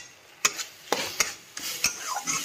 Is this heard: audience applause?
no